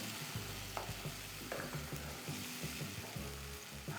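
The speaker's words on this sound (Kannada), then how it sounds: "ಕ್ಯಾರೆಟ್ ಏನು ಪೇಸ್ಟ್ ಮಾಡಿದ್ದೀವಲ್ಲ ಅದನ್ನು ನಿಧಾನವಾಗಿ ಹಾಕೋಣ" Carrot paste frying in ghee for carrot payasa, sizzling steadily while a spoon stirs it, with repeated soft scraping knocks against the pan throughout.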